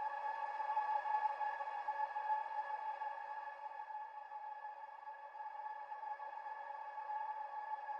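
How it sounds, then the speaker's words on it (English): A sustained, buzzy synth pad run through a saturator, with a gritty, distorted edge, holding one steady chord for several seconds, fairly quiet. "by turning the saturator up, you get that distortion."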